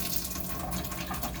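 Tap water runs steadily through a faucet-mounted water filter, a continuous close splashing rush that holds at an even level throughout, with no voices.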